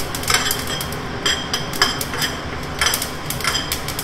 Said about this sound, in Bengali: তার জন্য একটুখানি মৌরি শুকনো জায়গায় একটু নেড়ে নিচ্ছি।